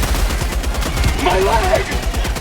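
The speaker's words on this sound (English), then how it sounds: "Orbital barrage incoming." Orbital barrage strike in Helldivers 2: a steady roar of rapid explosive fire and rumbling blasts holds throughout, with a voice calling out over the barrage.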